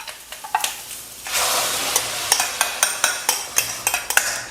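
Onion stirred through a hot sauce in a frying pan for salted-egg prawns, with repeated sharp utensil scrapes and clicks over a steady sizzle that swells louder partway through, close and without talk.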